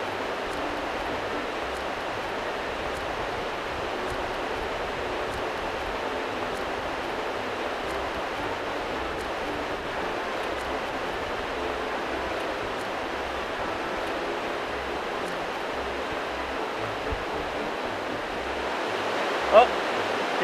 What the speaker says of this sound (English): Oh, here comes the tide.